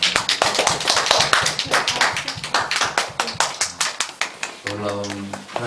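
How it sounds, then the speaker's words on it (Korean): A church congregation at a Sunday worship service claps in a quick, uneven rhythm of sharp hand slaps, mixed with voices, before a sustained sung or spoken tone rises near the end. "우리에게 은혜 주신 하나님께 영광의 박수 올려드리겠습니다."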